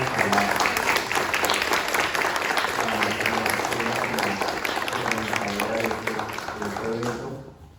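An audience at a library panel on the role of the dancer in Suba applauds its guest panelists, steady, dense clapping filling the room for several seconds while a voice talks over it, fading near the end.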